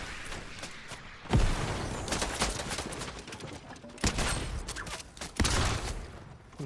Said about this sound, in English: They're shooting through the trees!